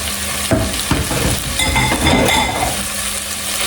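Garlic and chili sizzle in a hot pan while being stirred, a loud continuous frying hiss broken by scrapes and light clinks of the utensil against the pan, while an Indonesian-style stew is being cooked.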